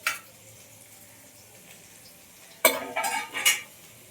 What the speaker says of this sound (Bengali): আমটা ভাজতে রেখেছি, ভাজা হচ্ছে, আর 5 রকম ভাজা হচ্ছে